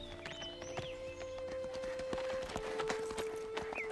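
Horses' hooves clip-clop along a steep trail, a steady run of sharp hoof strikes at moderate distance over a droning tone and outdoor ambience.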